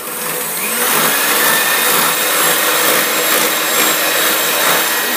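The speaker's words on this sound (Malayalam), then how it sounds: "ഇനി പഞ്ചസാര ചേർത്ത് കൊടുത്ത് ഒന്നുകൂടി ബീറ്റ് ചെയ്തെടുക്കാം" An electric beater whirs loudly and continuously as it beats unpowdered sugar into carrot cake batter, a steady close-up drone lasting throughout with no talking.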